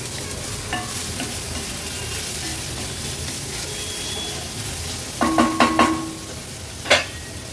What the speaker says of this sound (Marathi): मोठ्या साईजचा एक कांदा आणि हिरवी मिरची आपण फोडणीला घालूया